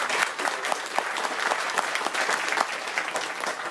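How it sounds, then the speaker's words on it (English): A graduation ceremony audience gives a steady round of applause for instructors, dense clapping sustained throughout at moderate loudness with no talk over it. "Let's give our instructors another big round of applause"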